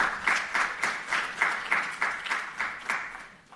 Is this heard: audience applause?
yes